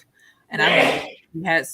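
One person sneezes with a sharp intake of breath and a loud burst, then a shorter second burst follows, close and dry, with talk just before and after.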